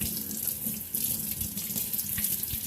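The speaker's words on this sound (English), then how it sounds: "I'm going to turn on the faucet" A faucet runs at a sink, a close, steady stream of water splashing with small fluctuations, alone without any voices.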